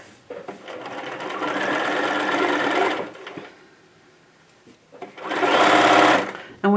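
A sewing machine stitches across the bottom seam of a fabric bag in two steady whirring runs, the first about two and a half seconds and the second shorter, separated by a brief pause, close and clear.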